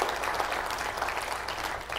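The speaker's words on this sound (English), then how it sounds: "Duke a round of applause." Audience at a financial wisdom class applauding in a steady, dense wash of clapping, moderately loud and sustained for the whole moment without talk.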